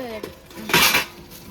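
Metal cookware, a triply kadai and an idli steamer vessel, clatters briefly while being handled in a shop, with a sharper clang near the middle standing out over quieter background.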